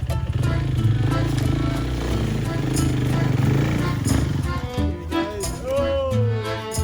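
A Yamaha dirt bike engine labors while climbing a rock face, a loud, close drone with steady revving that wavers and shifts pitch near the end as the throttle changes, and a voice talks over it.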